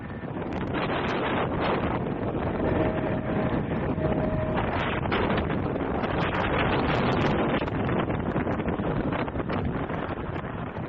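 Fierce October Santa Ana winds driving a wildfire, captured as a continuous loud roar of gusts buffeting the microphone, with rustling and brief tonal whistles partway through, no voices.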